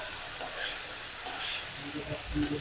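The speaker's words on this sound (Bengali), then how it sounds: "দেখেন এক সাইড কত সুন্দর ভাজা হয়েছে" Parshe fish fries in hot oil in a kadai, giving a faint, steady sizzle with a soft knock or two near the end.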